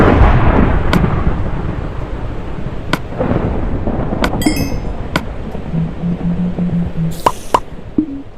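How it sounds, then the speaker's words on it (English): Steady heavy rain pours throughout, broken by sharp cracks and thumps and a few distant rumbling booms like thunder, with a creaking, door-like squeak partway through. "Just that sound alone of opening the door, the rain, the thunder."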